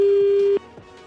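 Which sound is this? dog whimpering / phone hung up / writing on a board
phone hung up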